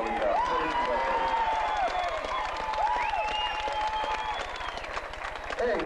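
Crowd of racing fans at Flemington Speedway applauding after a modified race win, a broad wash of clapping and cheering with voices and a public-address sound mixed through it, fairly distant and steady.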